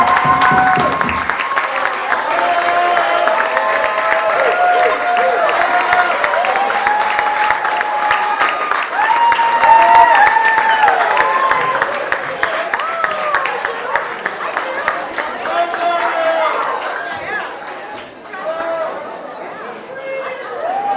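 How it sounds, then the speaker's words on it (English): Partygoers at a Mardi Gras-themed graduation party clap and cheer to welcome an MTV reality-show guest. The clapping is mixed with loud crowd chatter and voices, and it thins out toward the end. "get your hands clapping"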